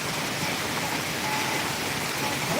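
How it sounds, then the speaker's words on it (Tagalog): Heavy afternoon rain pours down in a rural province, a dense, steady hiss of drops close by with no voices over it. "Malakas. Ulan."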